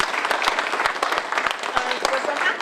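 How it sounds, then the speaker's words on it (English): Concert audience at a library venue applauds a performing group, a steady close wash of clapping with sharp individual claps standing out, lasting a few seconds without speech. "Big round of applause."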